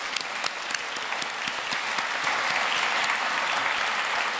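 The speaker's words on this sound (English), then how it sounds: "Please give her a warm round of applause." Warm, sustained applause from a gala audience honoring an award recipient, dense steady clapping filling the room for several seconds.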